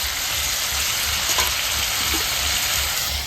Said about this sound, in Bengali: তো এই যে ডাটা আলু দিয়ে মাছের ঝোল হচ্ছে, এখনো মাছ দেয়নি, ডাটাটা কষিয়ে নিচ্ছি